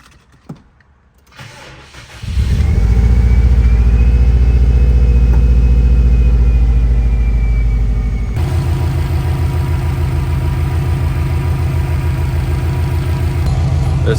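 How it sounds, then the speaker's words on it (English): A car engine cranks briefly, catches and settles into a steady, loud idle that runs on continuously up close, with a faint whine above the rumble and no talking. "then I'm gonna go ahead and start that car"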